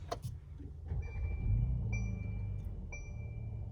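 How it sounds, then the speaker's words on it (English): A 2020 Mercedes GLC43 AMG engine turns over and settles into a low, steady idle rumble, close by, with a few faint electronic chimes over it. "So now that we've started it up, you can kind of hear a little bit of that engine purr."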